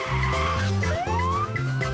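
Cartoon car chase in an animated series: engines roar and tyres skid and squeal in a loud, continuous burst, with a rising siren-like whine layered over the revving.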